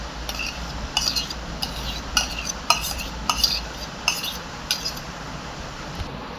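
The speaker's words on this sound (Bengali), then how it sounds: "এবার দই নিয়ে মিক্স করে নেব।" A spoon stirs yogurt into a mixture for chole bhature, giving repeated soft scraping and clinking strokes against a bowl at a steady pace, close and moderately quiet.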